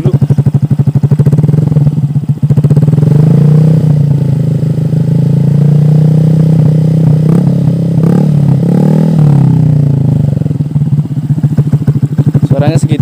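A motorcycle with a Proliner racing exhaust, freshly repacked with glasswool, revs loudly up close, its exhaust blipping and droning in a steady throttle hold before sharp revving bursts.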